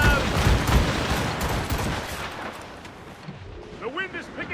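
Ship cannons boom in a naval battle in Assassin's Creed Rogue, heavy overlapping blasts and rumbling impacts that fade toward the end, while shouted voices call out over the gunfire.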